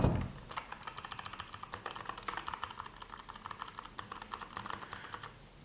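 Rapid typing on an Akko Kumara Pro mechanical keyboard fitted with blue switches, bright clicky keystrokes in a fast irregular patter, close and clear with no talking.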